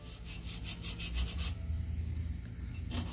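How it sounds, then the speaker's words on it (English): A green Scotch-Brite pad is rubbed over paint overspray on a Club Car Precedent golf cart body, a close, steady series of rough scrubbing strokes that pauses briefly before one last pass. "I'm using the green Scotch-Brite pad"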